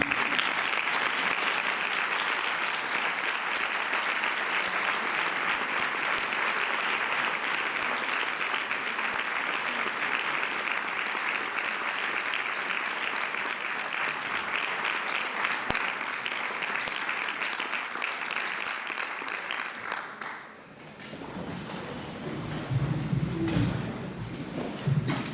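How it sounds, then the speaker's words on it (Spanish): An audience at a concert by a musical band gives long, sustained applause, loud and dense for about twenty seconds before tapering off, followed by quieter room sounds. "le recibimos con un aplauso"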